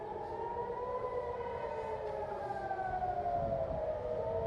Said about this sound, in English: Oh, hear the sirens?